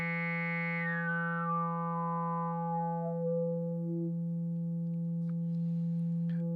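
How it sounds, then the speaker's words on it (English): A synthesizer drone with the filter resonance turned up as the cutoff sweeps steadily downward, a bright whistling peak gliding over a constant buzzy tone. "We can kick up our resonance a bit and do our classic resonance sort of sweep thing with the frequency."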